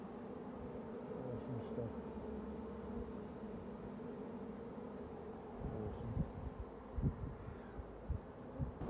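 A steady, low insect drone of many honeybees fanning and buzzing together in a colony inside a chimney, continuous throughout, with brief indistinct talk near the end.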